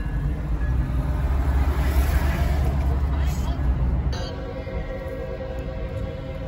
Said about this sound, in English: It's a real train, Caden.